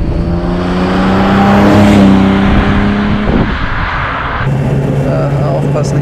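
A red 1970 Mercedes 280 SL Pagode engine hums steadily from inside the car while driving through Hamburg traffic, a loud, even drone with tone shifts as it changes gear.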